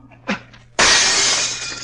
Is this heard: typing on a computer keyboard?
no